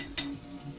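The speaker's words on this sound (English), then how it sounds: "You see how I put my spoon in and it sizzles?" A metal spoon dipped into hot frying oil heated for potato latkes gives a sharp burst of sizzle, then a soft, steady crackle that continues quietly nearby.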